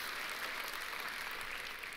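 A brief stretch of audience applause, dense and even clapping from a crowd heard at a moderate distance, steady for two seconds with no voices on top.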